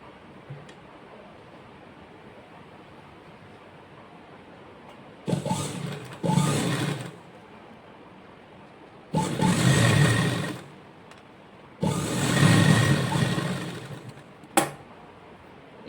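A sewing machine stitching frock cloth in three separate bursts of fast rattling clatter, each a second or two long, loud and close, with quiet pauses between them and a short final tap.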